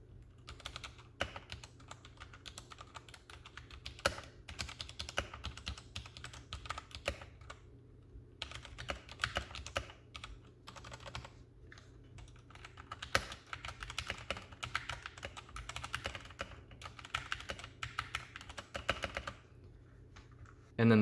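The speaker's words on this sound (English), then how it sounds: "The first part will be more of a typical typing scenario." Typing on a white Royal Kludge RK71 mechanical keyboard, an ordinary pace of quick irregular key clicks with brief pauses, close and fairly quiet, continuing for about twenty seconds.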